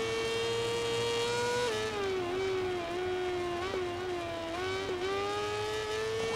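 A racing motorcycle engine in the video game MotoGP 18 drones at a high, sustained pitch, dipping and rising slightly as the bike runs through corners, loud and continuous with no talk.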